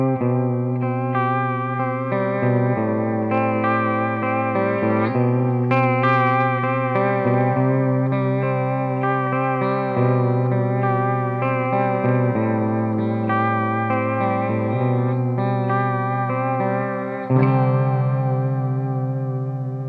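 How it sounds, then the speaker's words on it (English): Sustained electric guitar chords through a TC Electronic Shaker Vibrato pedal, slowly wavering in pitch, a deep, lazy vibrato that gives a lush, chorus-like shimmer; no talking. "I'm using a very slow vibrato with increased depth to give me almost a chorus-like sound"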